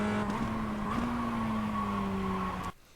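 A Mazda MX-5 race car engine in the iRacing sim, at Circuit de Lédenon, drones at high revs in first gear with a whining tone that rises and dips slightly, then abruptly cuts out near the end.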